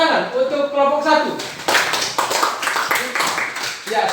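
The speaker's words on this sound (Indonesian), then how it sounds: "kita tepuk tangan untuk kelompok 1" Classroom applause for a student group after a presentation, a dense burst of many hands clapping that starts midway and continues steadily, following a teacher's voice speaking at the start.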